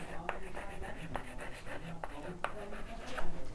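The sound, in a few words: writing on a board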